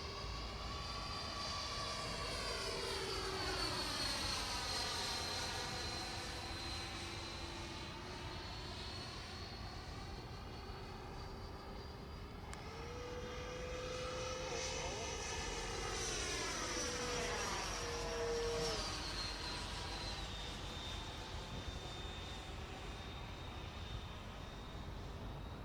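Avios MiG-17 Fresco RC model jet on its maiden flight, a loud continuous ducted-fan whine that rises and falls in pitch as it makes passes overhead, with a Doppler sweep around mid-flight and steady wind-like roar underneath.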